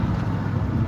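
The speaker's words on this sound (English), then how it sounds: "You should be able to hear the car to the left of me." A car driving in the lane to the left gives a steady, close road rumble and tire roar, low and continuous with no voices.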